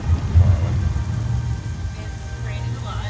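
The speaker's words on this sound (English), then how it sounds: "It's raining a lot, and no one will let us sleep." Heavy rain pouring in the game Morrowind near the town of Seyda Neen, a loud, dense, constant hiss with a low rumble underneath.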